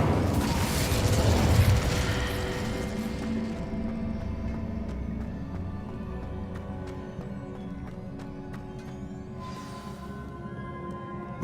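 A fire spell cast in the Hogwarts Legacy video game gives a loud, rumbling whoosh and burst in the first two seconds. It then settles into a long crackling roar that fades slowly, with a faint sparkle near the end.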